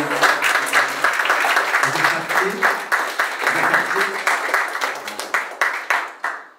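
Audience applause welcoming a speaker named Ricardo Nelson to the stage, dense rapid clapping from many people that stays loud, with voices murmuring underneath, then thins and tapers off.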